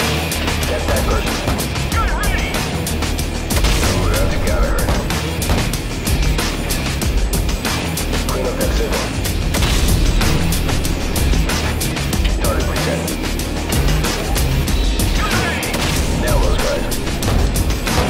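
Artillery fire in Call of Duty 4, the Death From Above gunship mission: dense, continuous rumbling booms and blasts throughout, loud and close, with radio chatter faintly mixed in.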